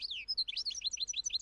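A goldfinch sings a rapid, twittering run of high, bright notes and slurred chirps, delivered continuously and close with no other sound behind it.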